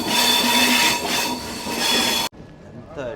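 A goods train drawn by five locomotives, with loud, steady rail rumble, wheel squeal and rolling wagon noise that cut off abruptly partway through, leaving a quieter interior.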